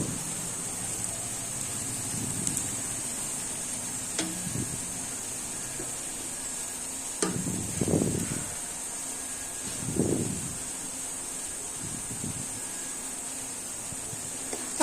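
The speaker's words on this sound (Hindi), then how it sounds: "प्याज को फ्राई करना है।" Onions frying in a pan for bitter gourd (karela) sabzi give off a steady, even hiss, with a few soft low knocks now and then and no voices.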